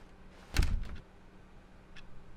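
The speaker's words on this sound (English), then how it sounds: "Door close." An office door in the video game The Stanley Parable closes with one solid thud and a short rattle, followed by faint ambient hum and a small click later, fairly quiet overall with no talk.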